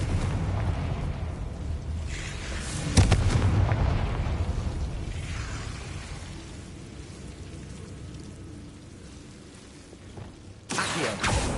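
A Confringo fire spell bursting in Hogwarts Legacy, a loud booming blast that rolls into a long rumbling, crackling roar, with a second burst near the end; no talking over it.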